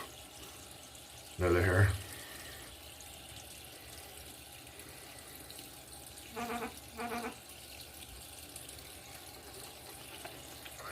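Tap water running briefly while brush knots are washed, one short loud burst of flow followed later by two quicker splashes, with a voice speaking quietly in between.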